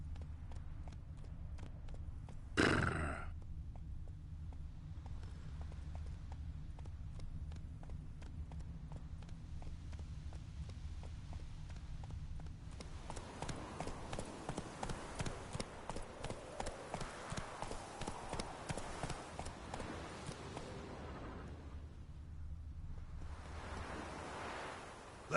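Hooves of the horse Roach galloping in The Witcher III, a steady rhythmic clip-clop that speeds into a quicker run midway, over a constant wind-and-surf ambience with a sharp burst near the start.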